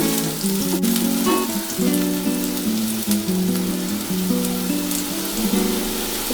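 Sliced onions sizzle in hot oil in a pan for a kheema egg stuffing, a strong continuous frying hiss that stays loud and even from start to finish.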